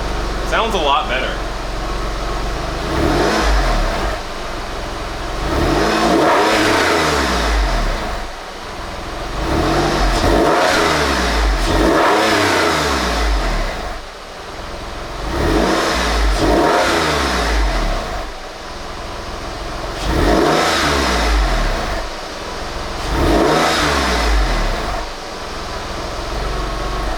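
Porsche 911 engine, low on oil after a crash, revved repeatedly in rising and falling sweeps that come in regular waves, loud and close, with people talking over it.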